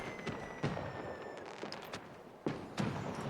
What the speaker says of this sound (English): Batwing firework.